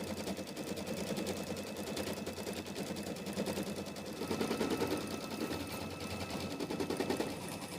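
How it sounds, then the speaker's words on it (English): A home sewing machine stitches background quilting on a small egg-themed mini quilt, running as a fast, steady mechanical chatter throughout with slight surges in pace. "I'll go ahead and put my foot down and begin stitching."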